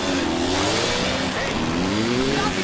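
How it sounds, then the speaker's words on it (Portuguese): A motorcycle engine revs loudly in the video game A Way Out, a continuous rising and falling whine over dense road noise, with faint voices mixed in. "Leo, get on the bike!"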